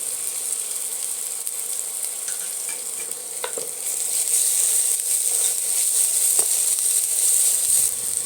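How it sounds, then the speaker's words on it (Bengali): Ginger and garlic frying in oil in a pan for a Bengali fish curry, giving a steady close hiss and sizzle that swells louder midway, with occasional faint stirring clicks and no talk. "আদা রসুনটাকে ভালোভাবে ভেজে নেব যাতে আদা রসুনের কাঁচা গন্ধটা না থাকে"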